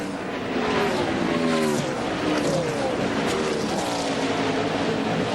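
NASCAR Winston Cup stock cars racing at Darlington Raceway, a dense, loud engine roar of several cars with rising and falling pitches as they pass close together.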